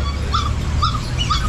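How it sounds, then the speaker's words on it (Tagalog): Three-month-old female chow-chow puppies at a pet shop whimpering and yipping in short repeated whines over steady background noise. "3 female chow-chow."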